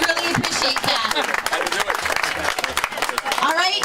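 An audience applauds a speaker at an event, a dense steady wash of clapping heard up close that carries on throughout, with some voices mixed in.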